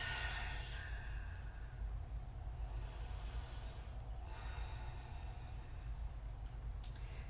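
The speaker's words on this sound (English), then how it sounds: "Just taking the fullest, deepest breath in. The longest, richest breath out." Slow, deep yoga breathing during a standing mountain pose, a long soft inhale followed by a longer airy exhale, faint and close, over a low steady background hum.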